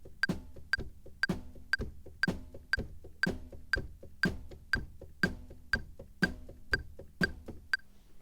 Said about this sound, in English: The other most common one is just the typical rock beat